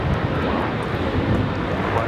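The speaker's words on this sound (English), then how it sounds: "This is Alaska Airlines 1418 taking off to Guadalajara on the 737-900ER" An Alaska Airlines Boeing 737-900ER bound for Guadalajara takes off from Los Angeles airport, a dense, loud, continuous engine roar without a break.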